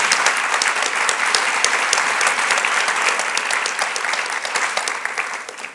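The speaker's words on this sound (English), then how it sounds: "Can we give some applause for Banner Gateway for the sponsorship?" Sustained, dense applause from an audience at a leadership forum luncheon, steady and loud for the whole stretch and fading only slightly near the end, with no voices above it.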